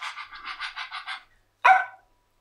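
A person on stage imitates a dog panting as a moan: a run of quick, rhythmic breathy pants, a brief pause, then one louder, drawn-out moaning cry, all close and clear.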